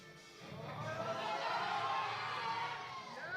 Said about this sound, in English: Team Ukraine giving support in the crowd.